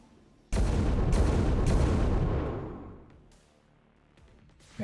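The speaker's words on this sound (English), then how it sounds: "Yeah, he keeps shooting." Repeated gunfire from an XCOM: Long War of the Chosen match, a loud sustained barrage of shots that runs for about two seconds, fades away, then returns with a brief sharp burst at the end.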